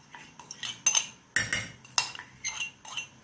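Spoon stirring melted chocolate mixed with liquid cream in a metal pot, a series of sharp clinks and scrapes against the sides in an uneven rhythm, close and fairly loud with no talk.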